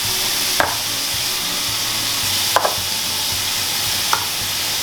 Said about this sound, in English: let those cook down just a little bit